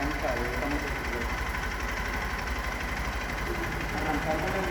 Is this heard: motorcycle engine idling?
yes